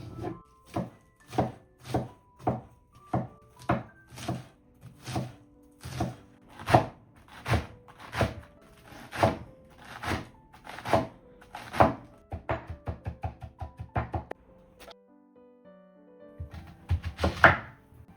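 A knife chops an onion steadily on a cutting board, sharp regular thunks in a fast rhythm, briefly quickening into rapid small taps before a pause and a final few cuts.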